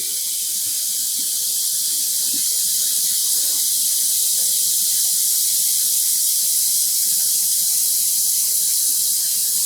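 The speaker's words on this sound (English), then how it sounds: "I'm adding another 2 liters of water." Water poured steadily into a pot for dyeing tweed yarn, a continuous bright splashing hiss that stays constant and loud throughout with no talking.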